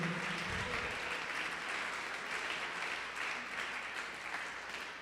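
Steady applause from a large church congregation fills the whole stretch, a dense wash of clapping that stays loud and eases off slightly near the end.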